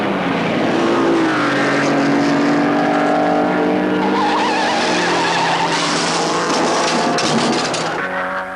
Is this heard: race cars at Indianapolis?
yes